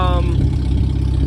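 A 1999 Jeep XJ's 2.5L engine with its exhaust cut off runs loud and rough, giving a steady low rumbling roar through the whole stretch, with a short tonal whine at the start.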